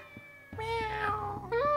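Meowing of a cat in the video game Shenmue: a single drawn-out, rising and falling meow over a faint low background hum, fairly clear and close, lasting just over a second.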